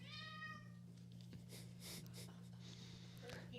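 A house cat gives one brief, harmonic meow near the start, followed by faint snuffles and rustling over a steady low electrical hum, quiet and close.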